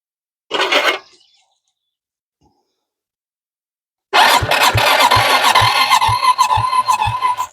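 A 2006 Zhejiang Kangdi 250cc kart engine cranks twice, first a short half-second burst, then after a long pause a loud three-second crank with a steady rhythmic chugging that never catches.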